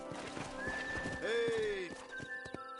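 Horse in the Red Dead Redemption video game gives a loud, clear neigh over steady clip-clopping hooves, with a voice speaking alongside.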